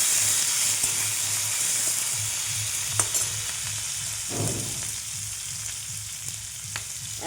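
Capsicum frying in a pan alongside already-fried potatoes, a steady close sizzle and hiss with occasional stirring scrapes, no voices.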